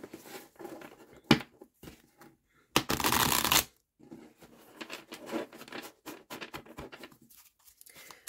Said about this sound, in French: Alors, je vais bien mélanger.